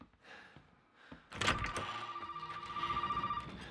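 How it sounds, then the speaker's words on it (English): A telephone rings inside the video game Resident Evil 7, heard as a steady electronic ringing tone after a heavy thunk, with the bell continuing up close and fairly loud. "It's interesting how the phones are dead until Zoe wants to talk to you. And then suddenly they're ringing"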